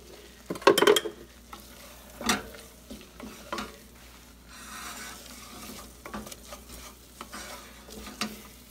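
Stirring in a hot pan while cooking the mac and cheese for a pizza: scraping utensil strokes and clinks of the pan over a low, steady sizzle, loudest in a few sharp knocks near the start, then softer intermittent stirring.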